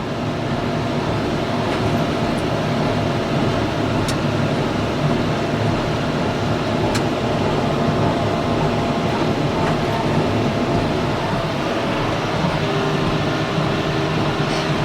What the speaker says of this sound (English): And that is why I love my baler. She just eats like she's starving.